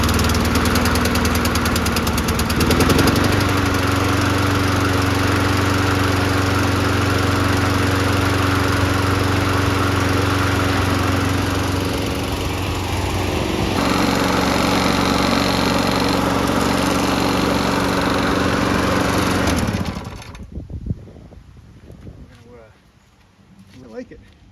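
A 1990s Toro GTS 3-speed rear-wheel-drive lawnmower engine running loud and close with a steady throbbing drone, pitch shifting slightly midway, then cutting off abruptly near the end, leaving faint clatter.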